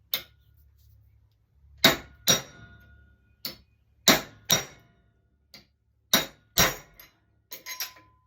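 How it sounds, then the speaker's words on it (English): Sharp metallic strikes of a chipping hammer on a big chisel against a washer ring out one by one at irregular intervals, some in quick pairs, clear and close with silence between. "I take this big chisel and my chipping hammer"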